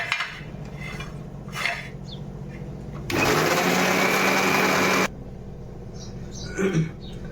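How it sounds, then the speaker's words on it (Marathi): A mixer grinder whirs loudly for about two seconds as it grinds coconut, garlic and coriander fine, with quieter kitchen clatter before and after. "आणि खोबरं लसूण ही पण कोथिंबीर ही पण बारीक करून घ्यायचं."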